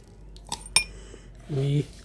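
A metal spoon clinks against cups while sugar is spooned in for sahlab, with a couple of sharp taps followed by a brief scraping rattle, close up and without talking.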